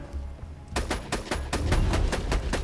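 A sniper rifle fires in Borderlands 2, about a dozen sharp, loud shots in quick, evenly spaced succession over low game ambience, with no speech.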